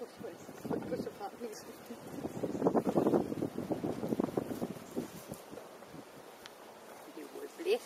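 Gusts of wind buffet the microphone outdoors where young rabbits are let out for the first time, an uneven, rumbling whoosh that swells and fades, with soft voices talking underneath.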